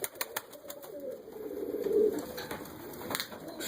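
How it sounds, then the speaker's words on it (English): Dutch high flyer pigeons in a loft give soft, low rolling coos that swell and fade, with faint wing flutters and small rustles in the background. "These are some of my Dutch high flyers in here."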